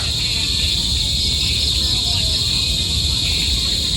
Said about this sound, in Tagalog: Ngayon kuliglig. May mga kuliglig na